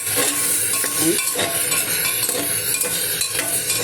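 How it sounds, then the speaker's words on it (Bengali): Mango pieces fried with salt in a pan, stirred with a spatula: repeated scraping strokes over a soft, steady sizzle, with no talking. "আমি একটু খুন্তি দিয়ে নাড়িয়ে দিচ্ছি"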